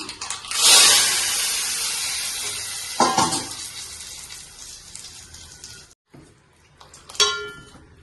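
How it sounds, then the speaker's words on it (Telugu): A loud burst of sizzling hiss as hot tempering of mustard seeds and chillies hits a tamarind sauce, fading into bubbling, then another sharp sizzle near the end. "ఇప్పుడు పులుసులోకి ఆవాను మిరపకాయలు పోపు పెడుతున్నాం"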